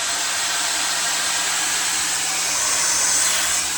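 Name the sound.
hair dryer running on its modes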